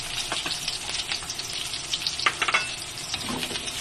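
Garlic and onion sautéing in a pan for creamy sopas: a steady hiss of frying with scraping stir strokes and brief sizzling bursts, close and without speech.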